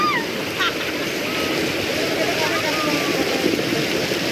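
Water waves wash in a continuous rushing surf. Wind buffets the microphone, and faint voices can be heard in the background.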